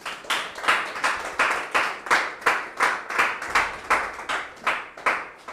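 Rhythmic audience clapping at an International Women's Day event, a crowd clapping together in a steady beat of about two claps per second, loud and unison, continuing for several seconds.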